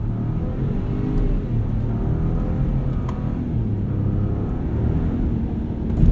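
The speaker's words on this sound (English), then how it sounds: "Here's an acceleration run. Flat to the floor." A 2021 Ford F-150 Tremor pickup accelerating at full throttle, its engine a steady, loud, rising rumble and whir heard from inside the cab, with no talking.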